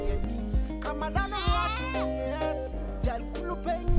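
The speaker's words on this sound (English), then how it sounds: "After washing, I go and untie the goats." Village goats bleating close by, several wavering calls in quick succession, one long drawn-out cry in the middle, with a few knocks and rustles between.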